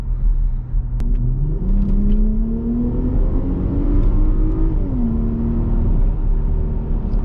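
Jeep Grand Cherokee 3.6L V6 with an aftermarket exhaust accelerating through a tunnel, a loud, close engine drone climbing steadily in pitch with a brief dip and rise as it revs under sustained load.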